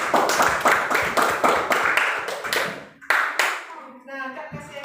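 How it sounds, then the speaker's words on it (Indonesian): Children clapping hands in an elementary classroom, a rapid run of sharp, close claps in a quick rhythm for about three seconds, then a final clap followed by a voice speaking. "Tepuk tangan dulu."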